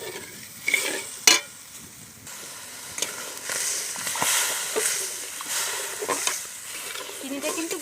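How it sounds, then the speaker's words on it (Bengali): Sugar, about 250 grams, stirred in a pan for Bengali chana dal laddu, giving a soft, steady scraping and swishing with light sizzling and occasional louder clinks of the spoon against the pan. "এবার ভালো করে নাড়বো যাতে চিনিটা ভালোভাবে গলে যায়।"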